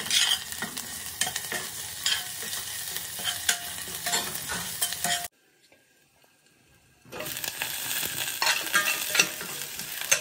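Onion and ginger garlic paste sizzle steadily in a pan as a spoon stirs and scrapes, close and busy, then the sound cuts out to near silence for about two seconds before the frying and stirring resume.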